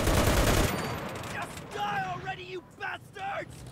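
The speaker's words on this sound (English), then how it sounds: "Oh, someone's shooting me." Gunfire from the video game Enlisted: a burst of rapid, loud shots at the start, followed by a quieter battlefield with distant pops and rumble while a voice talks over it.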